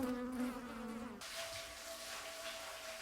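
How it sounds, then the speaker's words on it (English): Bees buzzing around four or five beehives kept on the walls of a rural house, a steady close insect drone with a shifting pitch that drops and changes after about a second. "Zhang Qiying also makes use of the house walls, tending 4 or 5 beehives"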